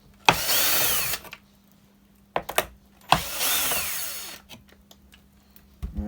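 A power drill unscrewing bolts on an Evolve Carbon electric skateboard whirs in two sustained bursts, each a few seconds long, separated by short clicks and quiet, close and fairly loud.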